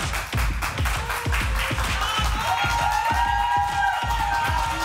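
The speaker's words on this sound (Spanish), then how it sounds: "Un aplauso para ellos, por favor" A studio audience on a Spanish talk show claps and cheers steadily for arriving guests, dense rhythmic clapping filling the room throughout with a crowd murmur underneath.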